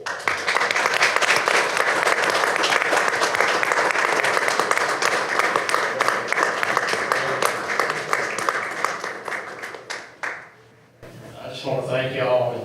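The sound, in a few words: round of applause at city council meeting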